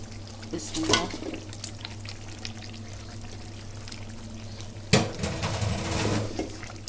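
Fish pieces go into a pan of thick, oil-coated spiced curry with ridge gourd, giving soft sizzling and clattering bursts near the start and a louder sputter later over a steady low hum, with a voice speaking faintly.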